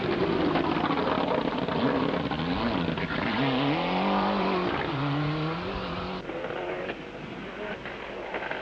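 A Ford Escort Cosworth rally car with a rear suspension fault runs through a stage of the 1998 Fastnet Stages Rally, its engine droning loudly and shifting pitch as it revs, then fading slightly toward the end.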